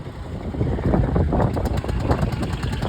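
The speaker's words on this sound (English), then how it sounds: "you'll hear it popping away with that single cylinder" A single-cylinder pulling tractor engine idles nearby with a steady low popping chug, overlaid with wind noise at the microphone and no talk.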